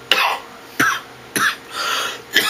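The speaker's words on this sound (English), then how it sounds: "It's real cough." Four sharp, harsh coughs from one person, spaced roughly half a second to a second apart, loud and close with brief quiet between.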